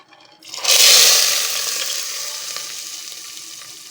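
A hot oil tempering of mustard seeds, asafoetida and curry leaves poured into a pressure cooker of avarekalu and radish huli hits with a loud, sudden sizzle that peaks quickly, then settles into a long, steady, fading hiss.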